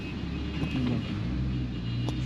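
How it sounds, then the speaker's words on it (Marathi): Heavy morning road traffic in a jam where road works narrow the way, a steady low rumble of idling and creeping engines close by, with a voice over it. "बघा, फुल ट्रॅफिक."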